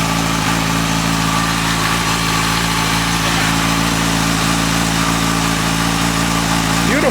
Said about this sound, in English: And we have a running bike.